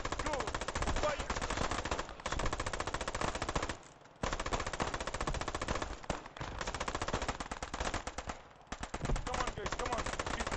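Machine gun fire in the Squad 44 video game at Utah Beach: loud, rapid, sustained automatic bursts with a couple of short pauses, close and dominating.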